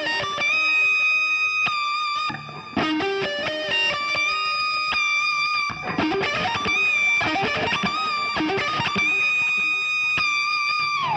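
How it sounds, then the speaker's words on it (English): Distorted electric guitar with effects plays a fast string-skipping lead lick in a solo, bright sustained notes leaping between strings with quick runs in between, loud and steady, with no talking. "that string skipping lick at the end"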